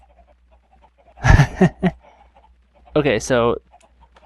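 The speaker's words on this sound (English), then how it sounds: "how many chickens are in the swimming pool?" Minecraft chickens in a pool cluck in two short bursts, one mid-clip and one near the end, with a voice talking briefly at the start.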